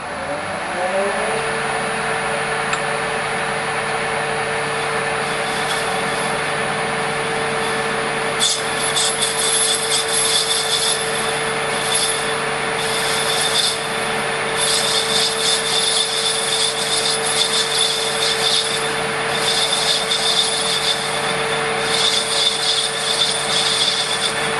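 Metal lathe taking a light cleanup pass on the outside of a brass tube, a steady mechanical whine and hum with a high cutting hiss, continuous and near, with narration over it.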